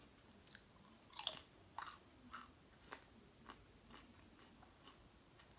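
Close, crisp crunching bites and chewing of El Pollo Loco food, a series of sharp crackling chomps spaced about a second apart over quiet mouth sounds, with no talking.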